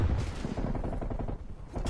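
Rapid gunfire from a hostile sentry turret in the shooter game Call of Duty Black Ops Cold War during live multiplayer, dense and continuous bursts filling the whole moment at close range.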